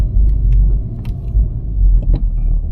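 Low engine rumble from a VW Golf 7.5 GTI driving at night, a steady loud drone with slight swells as it pulls away after a junction and roundabout, no talking.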